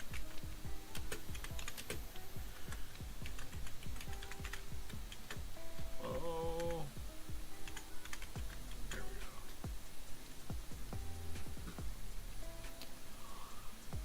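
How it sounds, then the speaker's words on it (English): Rapid keystrokes on a computer keyboard, typing out a chat message in a burst of close, irregular clicks with quiet game sounds behind. "I'll even type it in chat"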